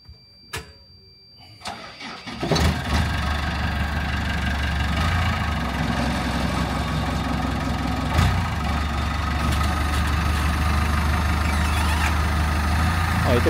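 A work machine's engine cranks and catches after a thermostat repair, then settles into a steady, loud, close running drone with the machine held on its handbrake; a few faint clicks come before the start.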